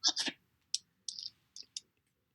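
Keys on a keyboard during a Zoom call tap out a few sparse, crisp clicks in short bursts separated by silence, close and fairly quiet.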